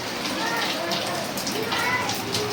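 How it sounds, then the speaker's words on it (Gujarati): Rain pours down steadily in Umrala, a dense hiss of drops drumming on surfaces close by, with a voice speaking over it. "અહીંયા અમારે વરસાદની શરૂઆત થઈ ગઈ છે"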